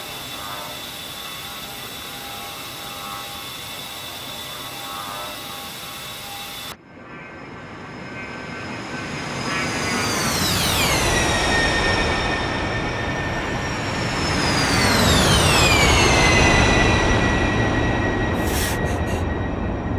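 Jet aircraft in the DCS flight simulator making a double flyby, two loud passes that each rise into a roaring whine and then drop sharply in pitch as they rush past, after a quieter steady cockpit hum.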